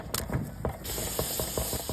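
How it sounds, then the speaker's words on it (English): A canister of inert bear spray loaded with pressurized water discharges in short, sharp hissing bursts with faint mechanical clicks, heard close and alone. "If you can test out inert bear spray, it's basically just pressurized water"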